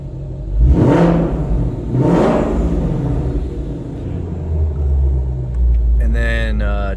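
A 2021 Ford Shelby GT500 in sport exhaust mode revs twice in quick succession, loud and close, its deep exhaust roar swelling and falling before settling into a steady idle rumble, with a brief whir near the end.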